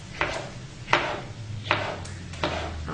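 A knife chops small Roma tomatoes on a cutting board, giving four evenly spaced, crisp knocks against a quiet kitchen background with a low hum.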